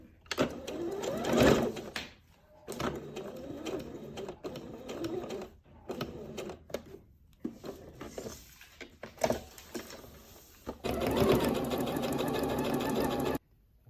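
A sewing machine stitches a kaftan seam in bursts of rapid mechanical whirring, stopping and restarting several times with short pauses between runs, close and fairly quiet, with a final longer steady run.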